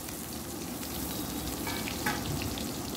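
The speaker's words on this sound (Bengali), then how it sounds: "এবার আমি একটু পেঁয়াজ ভেজে তুলে রেখে দেব" Onions fry in a pan in steady, close sizzling oil with a dense, even hiss, with one brief utensil clink partway through.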